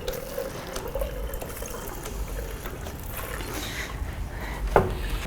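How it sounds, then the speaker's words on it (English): Water runs and trickles steadily out of a hand-operated water filter drawing from the River Thames outdoors, a continuous splashing flow with a brief sharper knock near the end. "the water's going to come out of there"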